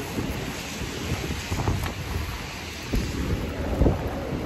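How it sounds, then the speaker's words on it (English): Heavy rain pours steadily through a thunderstorm outdoors, with dense broadband hiss, low rumbling thunder and gusts of wind buffeting the microphone, loud and continuous throughout. "it's raining like a motherfucker"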